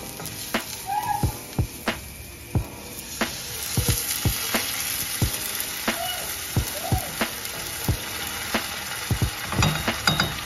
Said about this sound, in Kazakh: өсімдік майына ұсақтап туралған пиязымызды салып, қызарғанша қуырып аламыз